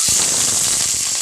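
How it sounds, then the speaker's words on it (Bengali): Cumin seeds hit hot oil with a loud, dense sizzle and a sharp crackling burst at the start, close up, with no talking. "তেলে আমি একটু জিরে দিয়ে দেবো।"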